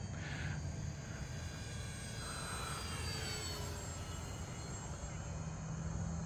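An Arrows F4U-4 Corsair radio-controlled model airplane flies overhead on a calm, cool morning, its small engine giving a steady, distant whining drone that shifts slightly in pitch as it passes.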